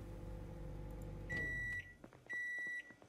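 Microwave oven in the video game Project Zomboid switching on: a low hum stops, then two long electronic beeps follow with small clicks in between, clear and close.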